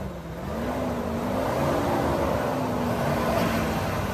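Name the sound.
GMC Denali truck engine revving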